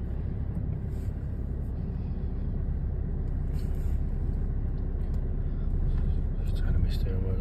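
A 2022 Toyota Hilux crawls uphill in low-range four-wheel drive, its engine a steady, loud low rumble that holds throughout with a slight swell near the end, while a voice talks over it.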